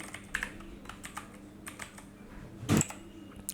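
Typing on a computer keyboard while entering text in Photoshop, soft close key clicks in an uneven rhythm with a louder cluster of rapid strokes near the end, no voices.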